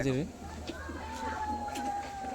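An adult breeding pair of pigeons, male and female, gives a brief, soft coo near the start. A steady low hum and nearby talking continue beneath it.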